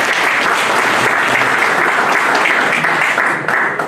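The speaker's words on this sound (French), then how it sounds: "Sous vos applaudissements, s'il vous plaît." An audience at the closing of an MLC party conclave in Brussels bursts into sustained, loud applause that holds steady and then begins to taper off near the end.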